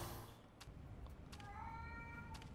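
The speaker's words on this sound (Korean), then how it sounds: "고양이 소리 고양이, 고양이 소리" A cat meows a few times, short tonal cries over a low background rumble like distant traffic, fairly faint overall.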